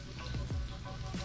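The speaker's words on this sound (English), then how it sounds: "Hear that sizzle? I love sizzle." Buttermilk-coated food sizzles and crackles steadily as it fries in a pan for Louisiana cooking, a close, continuous hiss with small pops and no talking.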